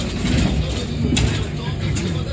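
Inside a bus on a very cold day, a continuous low engine rumble and rattling cabin noise fill the space, with faint voices mixed in.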